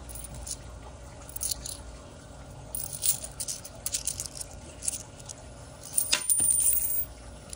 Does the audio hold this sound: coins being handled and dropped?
yes